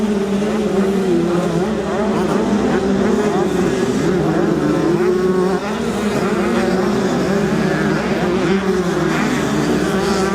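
85cc motocross bikes race uphill, their engines whining loud and continuous in close, layered, overlapping drones that hold steady throughout.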